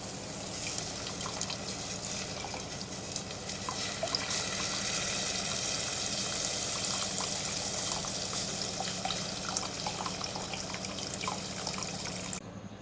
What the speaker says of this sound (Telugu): ఆ చింతపండు పులుసు నేను ఒక అరగంట నానబెట్టి పెట్టుకున్నాను, అది పోస్తున్నాను